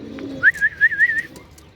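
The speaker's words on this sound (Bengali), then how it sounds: "ডিউলিপ কবুতর মাশাআল্লাহ দর্শক দেখতে পাচ্ছেন খুব চমৎকার" Dewlap pigeons coo close by in a short burst of soft, rolling notes lasting under a second, set against a quiet background.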